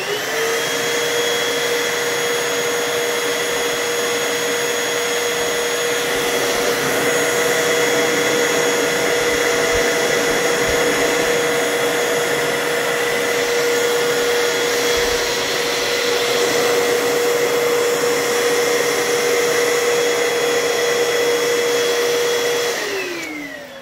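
A Hoover Total Home Pet vacuum cleaner runs during an airflow test, a loud, steady motor whine with a high tonal hum that holds for over twenty seconds, then cuts off at the end.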